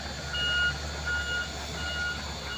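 A truck being loaded gives off a steady reversing alarm, a series of evenly spaced electronic beeps at moderate distance over a constant low hum and hiss of the outdoor site.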